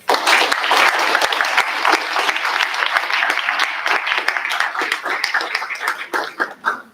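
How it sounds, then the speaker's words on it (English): An audience at a Capitol Hill policy briefing breaks into loud, sustained applause, a thick wash of many hands that holds steady and then thins into scattered individual claps near the end. "Please give them a round of applause"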